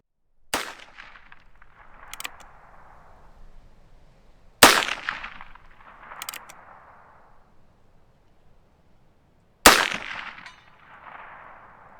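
A scoped Heritage Rough Rider Rancher .22 Magnum revolver firing V-Max rounds at a 150-yard target outdoors: three sharp, loud single shots spaced several seconds apart, each followed by a faint distant echo or impact.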